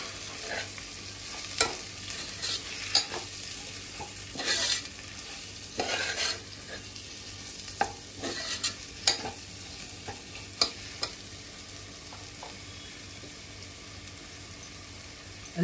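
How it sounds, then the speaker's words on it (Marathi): Masala with roasted, ground dry coconut gets stirred in a pan with a low steady sizzle, broken by irregular scraping and clinking strokes of the spoon over a long stretch, with no voices. "मिक्स करते चांगलं मसाला"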